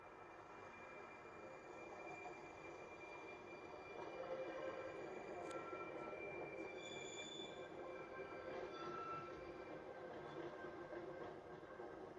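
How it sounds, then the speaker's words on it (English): A London Underground 1938 stock train departs on the Isle of Wight, rumbling steadily and quietly, with faint wheel squeals and a high whine, heard at a distance with no voices. "It's a 1938 stock, London Underground, just coming in on the Isle of Wight."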